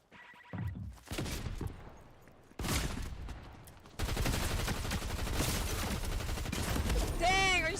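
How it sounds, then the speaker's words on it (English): Video game gunfire, bursts of rapid shots and a sustained fusillade that starts and stops, then runs continuously, loud and close with a brief electronic whine near the end. "How dare you shoot me like that"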